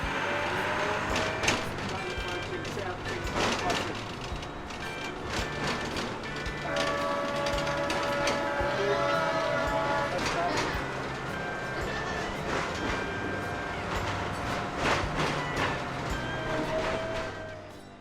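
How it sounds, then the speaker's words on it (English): An old train on Rottnest Island runs over unjoined rails, giving a steady loud rumble with clunks, rattles and high metallic screeches throughout, while voices are faintly audible under the noise. "The rails weren't joined together, so you get the old-fashioned clunks and screeches as you take in the views"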